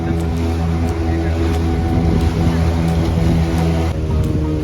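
Motorboat racing and overtaking another boat off the coast near Malvan and Devbag, Konkan: a loud, steady engine drone fills the scene alongside water noise, with faint voices mixed in.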